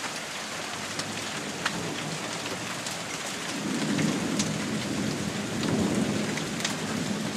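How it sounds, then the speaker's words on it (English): Small hail and rain patter steadily during a storm, a dense even hiss with occasional sharper ticks and low thunder rumbling in the background partway through. "There's still some small hail falling now."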